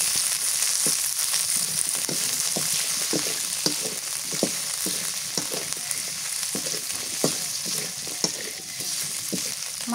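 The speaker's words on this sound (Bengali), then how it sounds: "কাঁচা মরিচ ভেজে নেবো, আর রসুন পেঁয়াজ" Fish, green chillies and garlic fry in hot oil with a steady, loud sizzle, and regular stirring scrapes tick through it at roughly even intervals with no talk.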